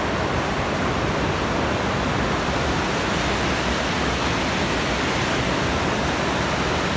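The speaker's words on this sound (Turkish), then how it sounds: "Çırçır Şelalesi." Çırçır Waterfall in Elazığ roars as a dense, constant wash of falling water, loud and close, with no voices over it.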